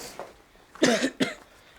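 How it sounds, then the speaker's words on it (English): Two or three short, close coughs in quick succession, the second one loudest, with quiet in between. "I hope that cough of yours isn't too persistent."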